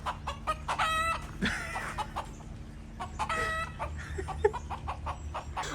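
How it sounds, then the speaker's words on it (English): A rooster clucks and crows repeatedly nearby, with bursts of harsh calls separated by short pauses against a low background hum. "not my rooster. It's not anybody's rooster"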